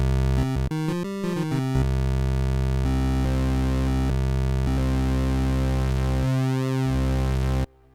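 Roland Alpha Juno synth tone, its sub-oscillator layered with a square wave, opens with a flurry of quick stabbed notes and then settles into a thick, loud sustained drone with slow shifting sweeps before cutting off.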